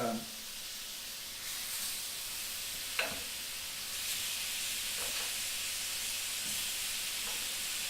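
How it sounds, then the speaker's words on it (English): Food sears on a hot Himalayan salt cooking brick with a quiet, steady hiss and sizzle and a few soft knocks as pieces are placed and moved. "We're gonna just lightly sear each side"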